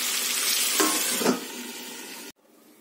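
Meat curry sizzles and fries in a pan, a steady loud hiss with a couple of stirring scrapes before it suddenly cuts off.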